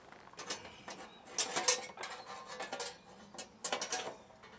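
Metal coal tray slid and scraped out of a combined BBQ and fire pit, with a series of clattering, scraping rattles at close range, several louder bursts and no talking.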